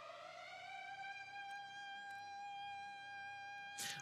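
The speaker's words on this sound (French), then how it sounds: "Donc directement, c'est la sirène." A steady air-raid siren wails in a strategy war game, a sustained tonal drone at low volume, with a couple of faint clicks and a brief noisy burst near the end.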